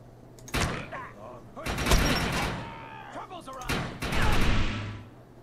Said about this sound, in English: I'm gonna switch over to my pistol, see if I can get a better shot.